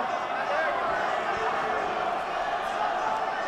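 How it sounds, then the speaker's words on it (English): Steady, dense crowd roar at a Hard Knocks Fighting MMA event in Lethbridge, sustained and fairly loud throughout with no clear breaks, with indistinct voices in the mix. "The crowd going crazy here"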